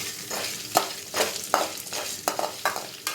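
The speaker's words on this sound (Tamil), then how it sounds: "முந்திரி பருப்பு நல்லா கோல்டன் கலர் வர்ற வரைக்கும் வறுத்துக்கலாம்" Broken cashew nuts frying until golden for ven pongal: a steady, close sizzle, punctuated every half second or so by brief scraping strokes of stirring.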